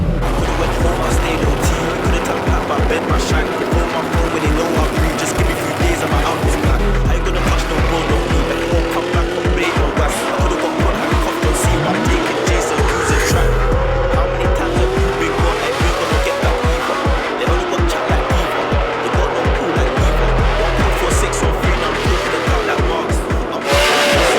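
Chrome blue Formula Drift race car being driven hard, its engine roaring loud and close with rhythmic revving and long tire squeals and skids throughout, a voice briefly heard beneath.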